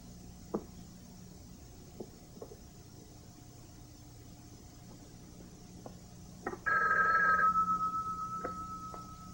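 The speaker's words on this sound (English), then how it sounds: "Doremus, pick up the phone" An old telephone bell rings once, loud and sustained near the end, after a quiet room with a few faint clicks and knocks.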